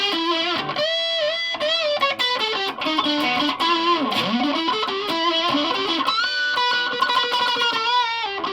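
Distorted electric guitar played through a Yamaha SC400 effects unit with reverb turned off, a dry, tight tone, sustained notes and bends running continuously and loud.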